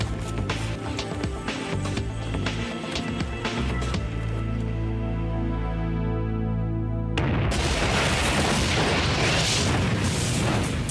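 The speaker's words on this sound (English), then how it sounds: "The blast rips through the back of the plane." A deep boom erupts inside an airplane cargo hold after a stretch of droning, ringing tones, followed by a loud, sustained rumbling blast that fills the remainder.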